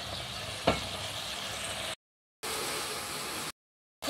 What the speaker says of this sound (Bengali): হলুদ দিয়ে ভালো করে কষিয়ে নেব।